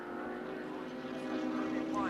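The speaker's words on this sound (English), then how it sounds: "the engine in this one at the moment is not doing a bad job" A 1983 Australian Touring Car Championship car's engine drones steadily at Wanneroo Raceway, a continuous mid-distance roar with a rising whine near the end, under a commentator's voice.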